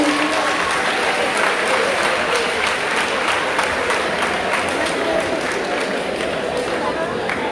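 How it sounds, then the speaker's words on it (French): A crowd at a reception for new baccalaureate graduates claps steadily and continuously at moderate loudness throughout, with some voices mixed in. "On l'applaudit, on l'encourage."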